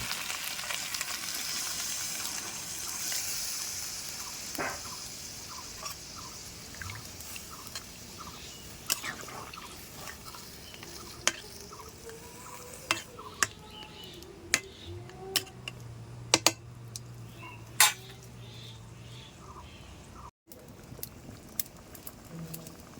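Chicken curry sizzling softly in a pan before water is poured in, a low steady fry with scattered pops and spatters that grow sharper toward the end, a brief humming tone near the close.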